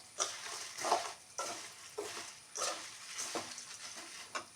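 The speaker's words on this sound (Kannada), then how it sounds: "ಈಗ ಮೆಣಸನ್ನು ಹಾಕೋತೇನೆ. ಮೆಣಸು ಡ್ರೈ ಆಗಬೇಕು" Peppercorns dry roasted in a pan for homemade rasam powder, a series of rattling, scraping stirs in rhythmic bursts with light crackle between, close and quiet, no voices.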